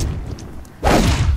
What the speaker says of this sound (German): Tut mir leid, es hat explodiert.